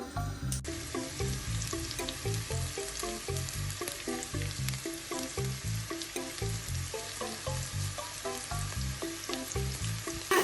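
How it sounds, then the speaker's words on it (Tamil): Onions and green chilies fry in oil with a steady hiss and crackle, heard up close and at moderate level, alongside a regular rhythmic beat in the background. "வெங்காயம் நல்லா வதங்கி வரணும், அப்போதான் நல்ல சுவையாக இருக்கும்"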